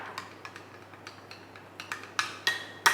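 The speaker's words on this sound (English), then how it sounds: "Give it a stir." A spoon clinks against a glass while stirring condensed and evaporated milk into a chocolate and coffee blend, a series of light, irregular taps that grow sharper and louder toward the end.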